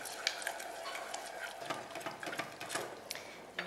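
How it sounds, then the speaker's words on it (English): Fresh cream mixture whisked briskly in a bowl, a steady close rapid scraping and swishing throughout with small clinks of the whisk. "Let's get this whole thing in and just whisk everything in."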